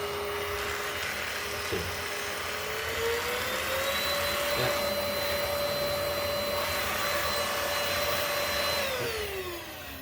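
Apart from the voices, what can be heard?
Greenote GSC40 cordless stick vacuum cleaner running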